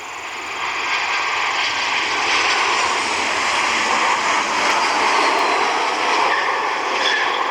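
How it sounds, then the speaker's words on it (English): A United Boeing 737 passenger jet, flight 1532 from Denver, roars steadily as it passes near the airfield, a broad sustained engine rumble that swells and holds loud throughout, with no voices. "United 737, flight 1532, inbound from Denver"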